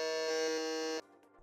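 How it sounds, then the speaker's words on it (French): A quiz-show buzzer gives one loud, sustained electronic buzz for about a second, then cuts off abruptly, leaving faint background noise. "Ça a bugué le buzzer"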